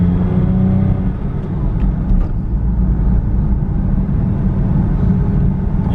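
A car drives slowly with a steady low engine rumble and whir, running smoothly through its gears with no talk.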